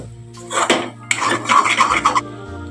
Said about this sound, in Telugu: మధ్య మధ్యలో ఒకసారి ఇలా కలుపుతూ ఉండాలి. ఆ గుడ్లు వేరు చేస్తూ ఇలా కలుపుతూ ఉండాలి.